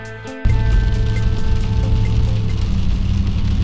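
Rain falls on a car with the windshield wipers in use, a loud, dense, steady patter that starts suddenly after a brief quieter moment, over a faint low hum.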